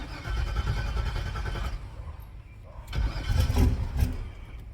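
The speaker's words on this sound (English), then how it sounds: "Now we're going to start the car and make sure it stays there." A 1980 Pontiac Trans Am with a TH400 transmission and a fuel pressure problem cranks and cold-starts, then settles into a rough idle with a brief rev. Loud and close, with no talking.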